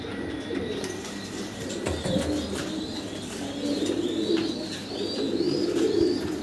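A pair of adult Andalusian Holy Cropper pigeons coo in low, rolling, repeated phrases close by, over a steady background hum, with a faint flutter early on.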